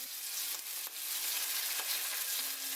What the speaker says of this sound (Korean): 고기 굽고 남은 이 버터랑 오일 섞여 있는 팬에 포항초를 넣고